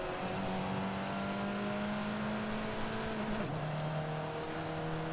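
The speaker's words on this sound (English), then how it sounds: "Revving the heck out of it too." A 2014 Alfa Romeo 4C in a racing video game holds a loud, sustained high engine note, then drops pitch as it shifts gear, with a constant buzzing drone throughout.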